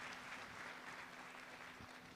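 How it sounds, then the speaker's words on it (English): A crowd at an airport terminal groundbreaking ceremony applauds, a steady wash of many hands clapping at a distance, even and sustained. "please give a big round of applause to Corrigan and Hansel Phelps"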